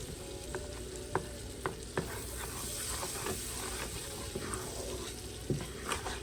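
Butter melts in a pan for sausage gravy, giving a steady, fairly quiet sizzle broken by scattered clicks and scrapes of stirring.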